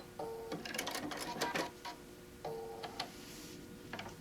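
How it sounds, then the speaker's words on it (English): Sewing machine stitching out to the edge of a placemat made from a fabric panel, two quiet bursts of rapid mechanical ticking separated by a pause, faint and close. "turn it to the corner and stitch out to the edge"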